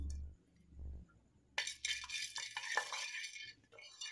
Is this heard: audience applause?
no